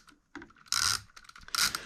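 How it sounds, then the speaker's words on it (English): A hand ratchet clicks while backing out a bolt on a Jeep Wrangler 392, with two loud bursts of rapid pawl clicking separated by softer, scattered ticks, close and without talk. "I do like this ratchet because of this little turning thing on the end, so you don't actually have to like completely ratchet it"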